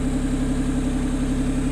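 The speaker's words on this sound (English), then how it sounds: "I'm going to shut the engine off because it is kind of a loud engine" A 1993 Honda Beat with a custom dual exhaust idles steadily and loudly nearby, a constant low engine drone with no revving.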